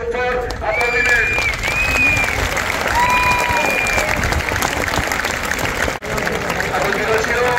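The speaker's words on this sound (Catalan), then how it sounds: "aquest grup de joves que mereixen un fort aplaudiment" Loud, steady crowd applause at an outdoor town festival in Masdenverge, sustained clapping throughout with music or voices faintly carrying over it and a brief dip near the end.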